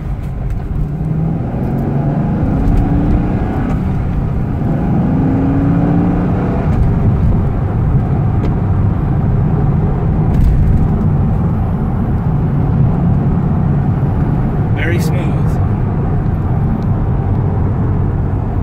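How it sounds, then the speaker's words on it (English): A Corvette engine drones steadily and loudly from inside the car while driving and cornering, a constant low rumble with road noise and no talking. "I'll let you listen to the engine a little bit as we make our corner here."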